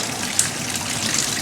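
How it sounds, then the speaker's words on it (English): A water pump running aboard a Dublin hire barge makes a steady hiss, like water trickling, with a small knock partway through, heard from a room away. "I'm going to let you hear what the water pump sounds like."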